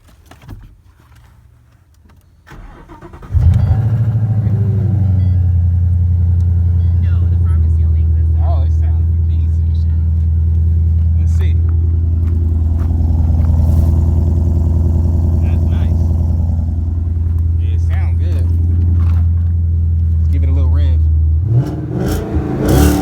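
A GT car with a loud aftermarket exhaust starts after a quiet few seconds and settles into a heavy, droning idle that holds steady and close, then shifts briefly near the end.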